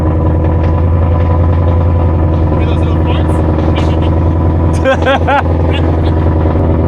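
An old car's engine running at a steady idle after starting, loud and close, with a low continuous rumble and a voice speaking briefly over it.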